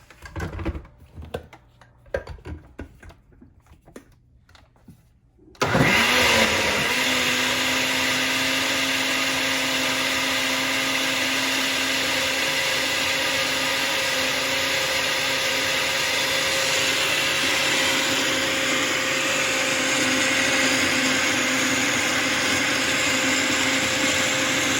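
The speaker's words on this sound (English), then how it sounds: "let's take it over to the blender and give it a whirl" A kitchen blender mixing pumpkin pie filling: soft clatter and handling noises first, then the motor starts abruptly and whirs loudly and steadily for nearly twenty seconds.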